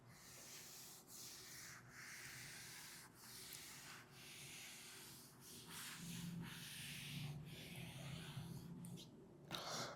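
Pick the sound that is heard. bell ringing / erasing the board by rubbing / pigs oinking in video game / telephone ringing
erasing the board by rubbing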